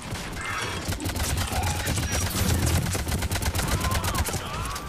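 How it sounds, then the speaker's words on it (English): Gunfire from a shotgun and other weapons in Mass Effect 3 multiplayer combat, a dense rapid burst of shots that runs nearly continuously, with some voices faintly underneath. "you need to say something when you shoot your shotgun"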